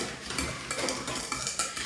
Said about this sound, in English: we're just gonna whisk this all together